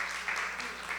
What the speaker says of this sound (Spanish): Denle un fuerte aplauso al Señor, servidores